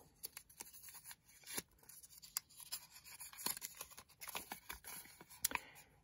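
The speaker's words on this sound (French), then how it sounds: "J'utilise des ciseaux en guise de pince." Scissors handled like tongs to pick up a small note, faint close-up metallic clicks and scraping taps scattered irregularly over quiet background rustle.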